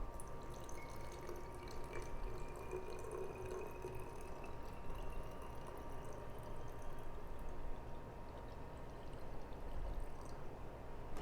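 Water poured into an automatic soap foam dispenser while filling it, a steady close splashing trickle running continuously with faint drips and no talking.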